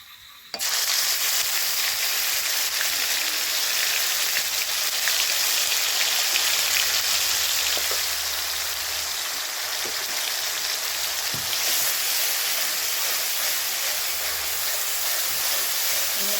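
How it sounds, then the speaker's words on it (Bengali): Garlic paste hits hot oil in a pan already holding nigella seeds, cooked for an ivy gourd kalia. A loud, dense sizzling hiss bursts in abruptly and holds steady throughout, with no talking. "এবারে দিয়ে দেবো রসুনের পেস্টটা"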